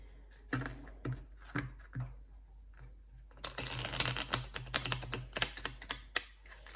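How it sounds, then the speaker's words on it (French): Cards are shuffled for a reading, starting with a few scattered taps and slaps before a dense, crackling run of riffling, close and fairly loud with no talk. "Je vais bien mélanger d'abord."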